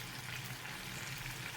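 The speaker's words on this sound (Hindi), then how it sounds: "तो फिर हम बाकी वाले कोफ्ते भी इसी तरह फ्राई कर लेंगे" Kofta meatballs frying in hot oil for a Bakra Eid recipe give off a steady, close sizzling hiss that holds evenly throughout, with no talking.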